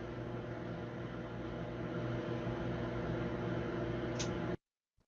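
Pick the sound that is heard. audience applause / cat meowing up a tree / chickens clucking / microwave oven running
microwave oven running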